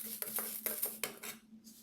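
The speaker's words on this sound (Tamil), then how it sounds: "இப்போ துவரம்பருப்பை போட்டாச்சு. இதையும் வந்துட்டு நல்லா கிளறி விட்டுக்கலாங்க." Toor dal is stirred as it roasts in a pan for idli podi. A utensil makes a few quick, faint scrapes and clinks against the metal over less than two seconds, with no talking.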